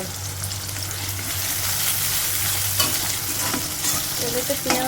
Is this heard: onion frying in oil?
yes